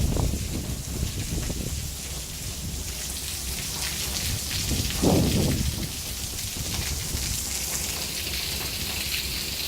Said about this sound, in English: these rain gutters are not meant for this type of rain